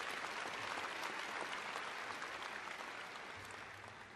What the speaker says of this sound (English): Another round of applause for Dr. Barton Foreman, please.